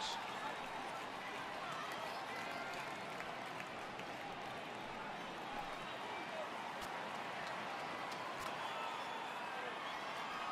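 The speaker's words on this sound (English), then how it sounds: "Crowd gets up for the 3-2." A stadium crowd in the MLB The Show video game roars steadily as fans rise for a full count during a Red Sox versus Yankees game. The dense, even cheering continues without pause.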